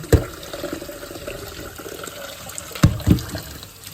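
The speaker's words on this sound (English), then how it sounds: "So everything's boiled. Quick little rinse off." Boiled cassava is rinsed under a running kitchen tap, a steady close splash of water with a few louder sloshes as the pieces are moved about.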